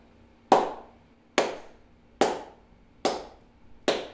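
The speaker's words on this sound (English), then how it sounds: "if I want to like a lower sound, a lower pitch for my claps, I'll make two cups with my hands" Five low, hollow claps made with cupped hands, evenly spaced about a second apart, each a sharp close thump with a short ring-off, alone in a quiet room.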